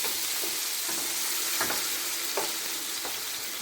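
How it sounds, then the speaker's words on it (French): Tomatoes sizzle in a pan over browned garlic, a dense steady frying hiss close by, broken by a few soft stirring scrapes at irregular intervals, with no talking. "Maintenant, je vais faire fondre les tomates."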